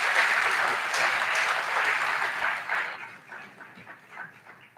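Audience at a college fall convocation gives a round of applause, a full wash of clapping that stays strong for about three seconds, then thins into scattered fading claps.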